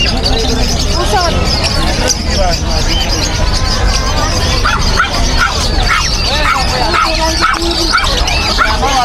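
Pigeons at a busy Friday open-air market in Bocaue, their cooing and squawks mixed into a constant loud babble of crowd voices, with people talking nearby throughout.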